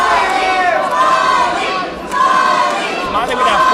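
A fight night crowd shouts and cheers loudly for a fighter, with dense overlapping voices and chatter rising and falling close by.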